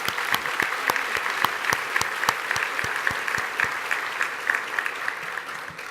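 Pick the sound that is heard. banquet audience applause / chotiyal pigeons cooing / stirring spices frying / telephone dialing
banquet audience applause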